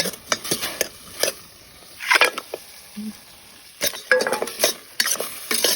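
Pork goes into curry paste in a pot for a Lao-style bamboo shoot curry with pork bones, heard as a run of scraping stirs and metal clinks against the pot over a faint sizzle, close up with irregular bursts.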